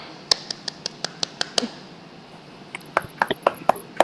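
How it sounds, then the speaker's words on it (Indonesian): A few people clap for a student in a classroom, first a steady run of crisp single claps, then a pause, then another ragged burst of claps, close and fairly sharp. "Tepuk tangan buat Mbak Vivi"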